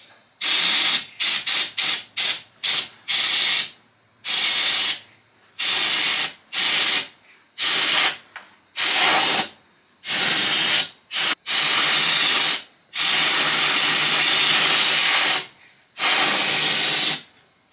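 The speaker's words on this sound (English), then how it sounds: "Right, that's it sprayed all the way down." Compressed air sprays through a pipe on a Porsche 928 project in loud hissing bursts, a run of short quick blasts followed by longer sustained gushes separated by brief silences.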